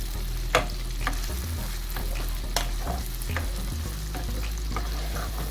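Codfish being stirred into seasonings in a frying pan, with a steady sizzle and several sharp scrapes and taps of a utensil against the pan, close and fairly loud.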